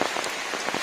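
Heavy monsoon rain in coastal Karnataka, a dense, steady patter drumming loudly and close on surfaces, with no voices over it.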